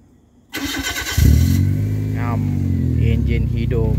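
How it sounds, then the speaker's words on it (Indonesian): A car engine is started remotely with a Yupiteru Auto Star remote starter at night: a brief whirring starter, then the engine catches and settles into a steady close idle, with a person talking over it. "Engine hidup, malam-malam buta-buta engine hidup."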